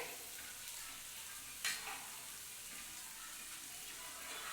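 A thin fish curry made with tamarind simmers in a pan, giving a quiet, steady bubbling hiss with one brief louder clatter partway through.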